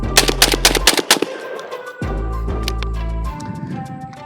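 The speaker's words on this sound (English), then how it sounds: "No malfunctions with 25 rounds of birdshot, and they were shot all succession." Rapid succession of loud birdshot blasts from an ATI Bulldog bullpup shotgun, roughly eight sharp reports crowding the first second, then a pause and a couple more shots ringing out over a steady low hum.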